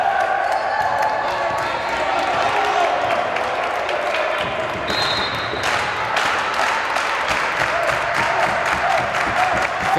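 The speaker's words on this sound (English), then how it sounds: "Fans clap as the conclusion draws near." Fans clap steadily in a gym during a men's college volleyball match near the end of a close set, a continuous crowd patter with sharp ball hits and an announcer talking over it.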